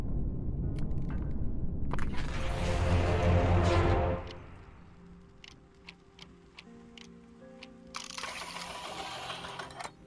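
Gear mechanism in a machine inside the VR puzzle game Flow Weaver, heard as dense loud mechanical whirring with ticking and ratcheting for about four seconds, then quieter scattered clicks before a second burst of grinding machinery near the end.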